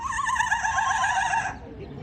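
A zoo bird imitating a horse neighing, a loud, near, wavering whinny-like call with a quavering pitch that breaks off abruptly, followed by quieter background sound.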